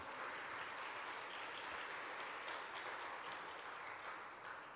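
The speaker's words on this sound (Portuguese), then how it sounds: "Pode aplaudir." A church congregation applauds steadily, a dense wash of many hands clapping at even volume throughout, with no voices on top.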